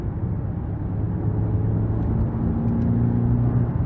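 2023 Cadillac XT5 with a 2.0-liter turbocharged four-cylinder engine, heard from inside while driving: a steady low engine drone and road rumble with faint tonal hum, moderate and continuous.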